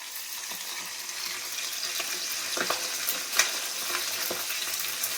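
Small fish coated in gram flour frying in a wok, with a steady bright oil sizzle broken by scattered pops and crackles, heard without talk.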